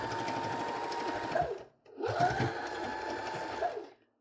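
A sewing machine stitches quilt layers together in two long steady runs of rapid whirring, close and loud, with a brief pause between them.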